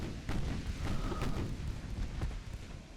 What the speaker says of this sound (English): Unleash all those salvos.